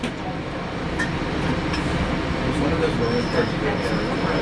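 A three-car self-propelled rail diesel car (RDC) passenger train of the Reading, Blue Mountain and Northern Railroad rumbles steadily past nearby, with a continuous low roar and faint rattling and squeals.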